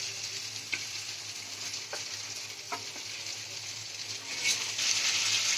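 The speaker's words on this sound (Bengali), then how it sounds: "এবার আমি এতে দিয়ে দিচ্ছি যেগুলো আমি ভেজে রেখেছিলাম আলু পটল, সেগুলো দিয়ে আমি কিছুক্ষণ নাড়াচাড়া করব" Fried potatoes and pointed gourd are stirred in a hot pan for a Bengali rice-and-gourd curry. Soft oily sizzling continues steadily, with a few sharp scrapes and taps of the spatula against the pan.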